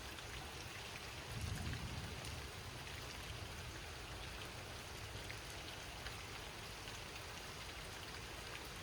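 Steady rain falls during a mild thunderstorm at a lake, a dense, even hiss of drops that continues without a break and sounds near.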